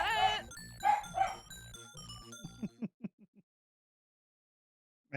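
A dog barks several times close by, starting with loud, tonal yips and tapering into a few short, softer barks before the sound drops to silence.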